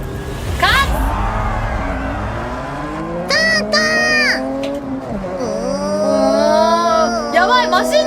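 Race car engines in a driving video game whine and rev with rising and falling pitch sweeps, loud and continuous, while people talk over them.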